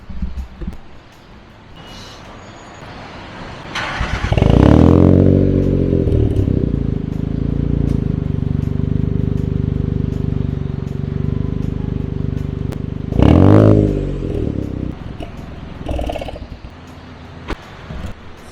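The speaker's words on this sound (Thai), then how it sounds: "เดี๋ยวผมจะลองสตาร์ทรถแป๊บหนึ่งนะครับ" A car engine, running on STP fuel injector cleaner, cranks and catches, roars briefly, then settles into a steady rumbling idle, revving up again once before quieting near the end.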